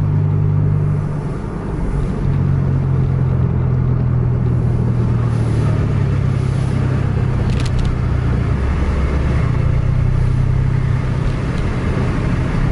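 A remapped Mercedes-Benz diesel bus engine races from behind a Volvo bus, a loud continuous low drone with shifting engine pitch and road rumble, heard from inside a moving bus without talk.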